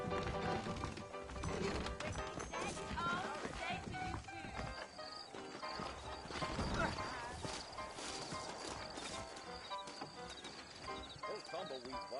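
Horses in the video game Red Dead clip-clop with steady hoof beats on hard ground, joined by the occasional whinny, under continuous talk and game sound.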